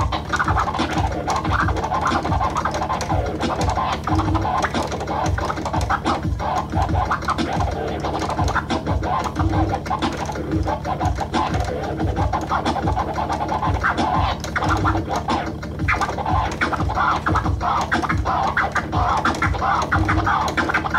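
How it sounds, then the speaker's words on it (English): Turntable scratching with a record played backwards, a continuous dense run of quick scratches over a steady beat, loud and without talk. "But yeah, scratching backwards is pretty fun."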